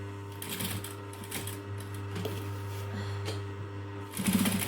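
A sewing machine stitches a clutch bag strap at a 3 3/4 stitch length, giving a steady mechanical whir with rhythmic needle ticking that grows louder and busier near the end.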